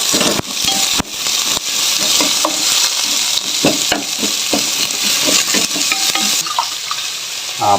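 Green chilies and sliced onion stirred in a frying pan, a steady loud sizzle broken by repeated scraping and clinks of the spatula against the pan throughout, with no voices.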